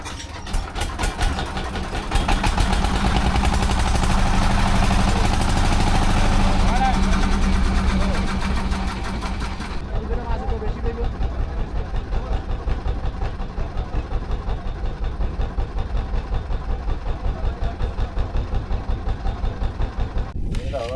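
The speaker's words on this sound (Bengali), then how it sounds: "রফিক ভাই নেমে নিচে গেল মেশিন স্টার্ট করার জন্য" A fishing boat's engine on the Padma river sputters and catches, then settles into a loud, rapid, even chugging that runs on steadily. A voice talks over part of it.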